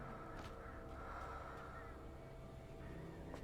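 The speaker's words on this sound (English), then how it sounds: "We can hear plenty of crows" Crows caw in a video game, several harsh calls scattered over a steady wash of ambient noise, fairly faint and somewhat distant, with no one speaking.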